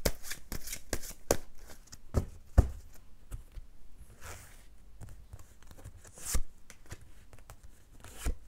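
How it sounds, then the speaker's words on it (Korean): Tarot cards are shuffled by hand in a long, close sequence of quick papery riffles and slaps, irregular in rhythm and fairly quiet, with no talk over them. "추가 카드 뽑을게요."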